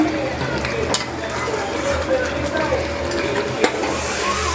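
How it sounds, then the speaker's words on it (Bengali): Marinated mutton sautés with spices in a pot, a dense continuous frying hiss with a low rumble beneath and occasional clinks of a stirring utensil. "এবার আমাদের মাটনটা কষানো হচ্ছে"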